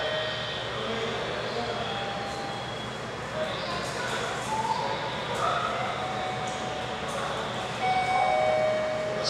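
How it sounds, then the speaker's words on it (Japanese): A Yamagata Shinkansen E3 series 2000 Tsubasa train arrives at platform 2 of Yamagata Station, heard as a steady, broad rumble and hiss filling the whole clip while a station announcement plays over the top. "山形駅11時4分到着予定の新幹線はただいま山形駅2番線に直通り到着しております。"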